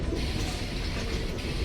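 A passenger train on the Secunderabad to Vijayawada line rumbles steadily, with a dense rattling roar of carriages and wheels on the track and no voices.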